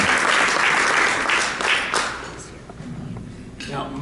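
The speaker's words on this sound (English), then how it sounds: "Let's give them a big round of applause" Audience applause at a Rotary club meeting, dense clapping from a crowd that fades gradually, with brief talk over the tail end.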